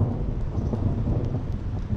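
Thunder during a thunderstorm at a beach fishing spot: a loud, sustained low rumble rolling through the whole moment, mixed with the patter of rain and light wind.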